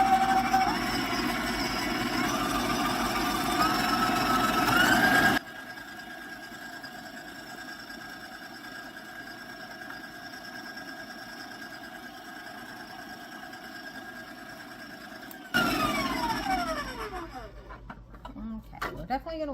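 An electric mixer beating macadamia chocolate cookie dough, a close motor whir that runs loud, drops to a lower hum for about ten seconds, then rises again before fading out.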